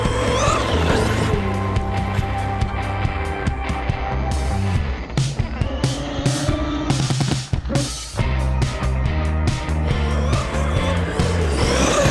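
An Arrma Outcast 6s 1/6-scale RC car with an M2C build screams through loud, high-revving electric motor runs, pulling wheelies with brief tire squeals and short pauses between bursts of acceleration.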